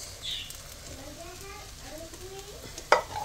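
Rice is stir-fried for shrimp fried rice in a pan, giving a steady sizzle with scraping spatula strokes and a sharp clack near the end, while a faint voice is heard in the background.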